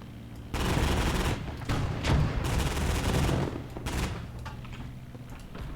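Anti-aircraft flak guns in the Gates of Hell war game fire at a bomber overhead, a dense rolling barrage of rapid booms and crackling bursts that thins out toward the end.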